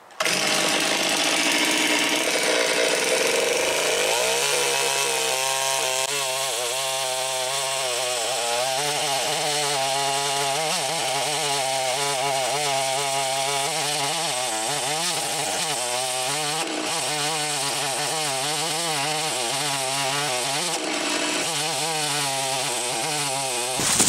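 Chainsaw cutting a stump below ground through sandy loam soil, free of river rocks and clay. The engine roars loud and steady for the whole stretch, its pitch wavering as the chain bites and eases, with no speech.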